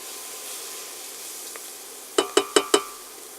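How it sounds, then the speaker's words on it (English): Thyme, leeks and garlic stirred as they sweat in a pan: a low steady sizzle, then four quick close scraping clinks of a spoon against the pan in an even rhythm. "Give them a little stir."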